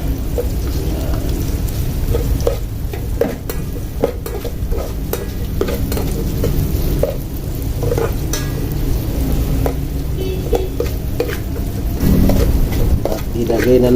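Sliced ginger sizzles loudly in hot oil in a pan, a constant close crackle broken by scraping stirs of a utensil against the metal, with occasional faint talk underneath.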